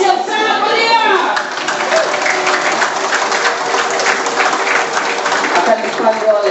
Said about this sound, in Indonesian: Berikan aplaus yang sangat meriah